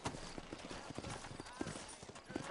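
Horse hooves clip-clop at a steady walking rhythm in the Red Dead Redemption video game, leaving the town of New Ulm, with a voice talking over the fairly quiet, continuous hoofbeats.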